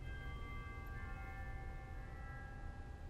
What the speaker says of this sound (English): There are also echo chimes.